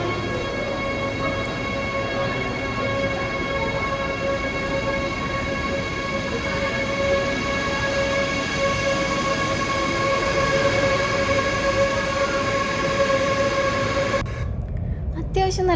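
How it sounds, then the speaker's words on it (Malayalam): A German ICE high-speed intercity train pulls into a station with a loud, sustained rumble and steady whining tones that persist throughout, then cut off sharply near the end. "അതായത് ICE, ആ ട്രെയിനാണ് ഈ കാണുന്നത്."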